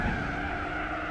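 Race car tires skidding and squealing under very late braking in Gran Turismo 4, a brief continuous screech over engine noise, loud and close.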